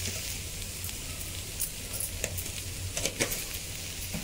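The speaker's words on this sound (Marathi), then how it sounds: "त्याच्यातच हे बटाटे टाकून आपण मिक्स करून घेऊया।" Potatoes stirred and mixed in a hot pan for Kutchi dabeli filling, a steady sizzle of frying with light scraping and tapping of the spatula against the pan, close and without talk.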